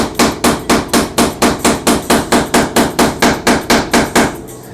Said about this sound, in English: More hammering, please.